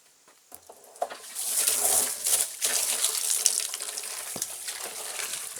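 Softened water running from a garden hose, splashing and pattering onto a surface nearby, starting softly then building to a steady gush with small irregular splashes.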